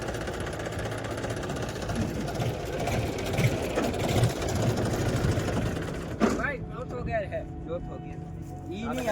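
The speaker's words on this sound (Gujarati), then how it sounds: "ફાઇનલી મિત્રો આપણું ટ્રેક્ટરનું ટેસ્ટિંગ હાલી રહ્યું છે." A tractor engine runs during a test, a steady low rumbling drone with a rhythmic mechanical chug, close by, while someone talks over it throughout.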